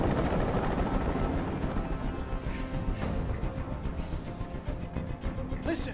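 Helicopter in the video game Detroit: Become Human, a steady broadband rotor and engine roar holding loud and constant throughout, with faint brief higher sounds near the end.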